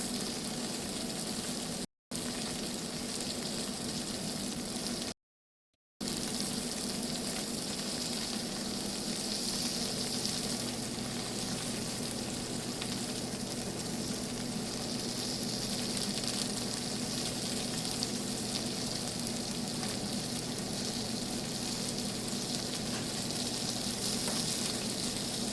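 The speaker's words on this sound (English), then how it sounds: "I'm actually just going to take my asparagus, throw some right in that pan" Asparagus sizzles steadily in a pan alongside salmon, a dense continuous frying hiss that runs on for a long stretch with two brief dropouts and no voices.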